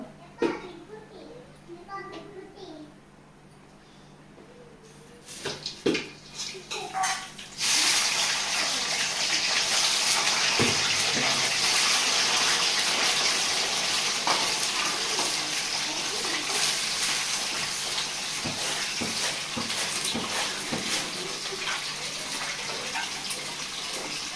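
Tap water gushes loudly and steadily, close by, after a few seconds of quiet talk and clatter at the start.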